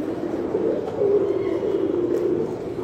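A black female Mookee pigeon coos in low, soft, rolling murmurs, close by and continuous, with no talk over it.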